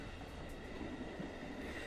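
Train-ride sound effect from a visual novel game, a crowded commuter train on a city loop line: a steady, close rumble and rattle of the carriage, continuous throughout with no talk.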